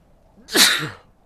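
A single loud sneeze close to the microphone, with a sharp burst followed by a short fading exhale.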